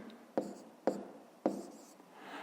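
A pen on paper taps out three sharp, evenly spaced strokes while numbers are written for a fifth-grade maths exercise, quiet and close against faint room noise.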